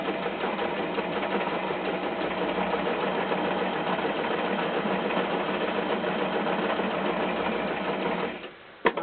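A sewing machine stitches fabric for an Easter bag, cranked slowly by its side handle, giving a continuous close mechanical whir that stops abruptly near the end with a small clunk.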